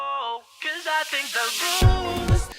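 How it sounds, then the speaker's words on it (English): A music passage whose bright upper range grows steadily stronger, swelling into a fuller, louder sound with bass beats near the end. "gradually raising the volume of just the high frequencies"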